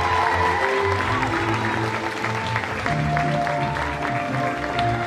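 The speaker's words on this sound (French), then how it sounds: "Vous pouvez les applaudir encore plus fort à ce militant." An audience at a lace-queen pageant event claps for a militant being honoured, steady applause blended with background music tones throughout.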